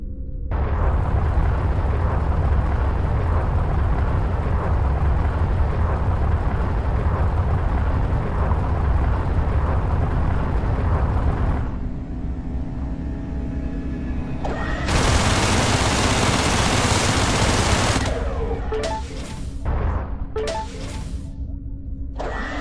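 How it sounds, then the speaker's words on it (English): Spaceship weapons fire in rapid, sustained bursts at a mineable asteroid in the space shooter EVERSPACE, a dense roaring barrage that cuts off, followed by a bright hissing blast and a few sharp hits. "There is a mineable asteroid nearby. Shoot at it to extract fuel."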